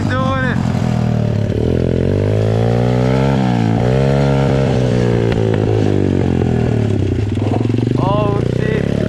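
Dirt bike engine revving hard under repeated throttle, rising and falling pitch loud and close, with excited voices talking over it outdoors on a bush ride.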